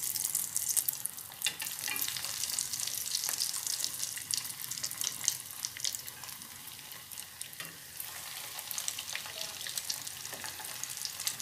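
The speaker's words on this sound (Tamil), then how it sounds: "மற்ற உருண்டைகளையும் பொரிச்சு எடுத்துக்கணும்." Fish cutlet balls deep-frying in hot oil, a steady broadband sizzle and crackle running throughout with occasional stirring clinks and splashes, close and fairly loud, no talking.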